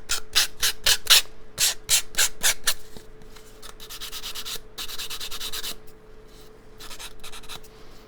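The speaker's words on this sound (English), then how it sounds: "to keep it kind of a rough edge looking, I'm just going to use an emery board" An emery board rasps back and forth along the rough paper edges of a junk journal, a close run of quick dry scratchy strokes followed by longer, steadier rubbing passes.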